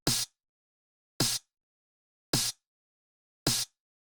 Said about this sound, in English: I just played this very simple snare pattern